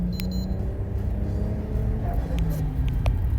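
Toyota Crown with a 1JZ engine revving up, a low throaty rumble rising steadily under light background noise, heard close from inside or beside the car.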